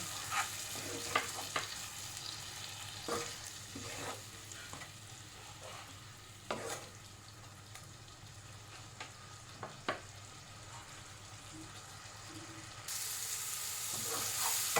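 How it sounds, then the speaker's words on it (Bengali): Spice masala for a Kashmiri rista mutton ball curry frying in a pan with a little water, a soft steady sizzle broken by scraping stirs, faint and close, with the hiss rising near the end. "এর মধ্যে অল্প জল দিয়ে আমি ভালো করে মশলাটাকে কষিয়ে নেব।"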